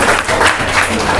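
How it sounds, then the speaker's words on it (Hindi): Applause from the audience at a social security conference, a loud, close, continuous burst of clapping that stays dense from start to finish. "अपने लिए तालियां बजाएं।"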